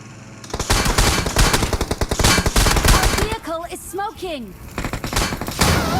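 Rapid bursts of video-game gunfire rattle almost nonstop, dense and loud, with a voice briefly speaking over the shooting midway through.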